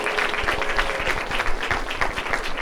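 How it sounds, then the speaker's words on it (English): Live comedy club audience applauding its staff, a dense, steady round of clapping from a full room that holds at an even level throughout. "Round of applause for your staff here."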